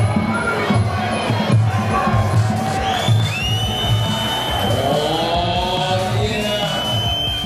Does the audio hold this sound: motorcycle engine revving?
no